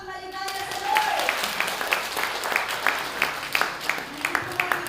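Scattered clapping from a congregation at a church Christmas celebration, a broad mid-loud patter with sharper individual claps standing out, mixed with background voices and a faint tonal sound early on.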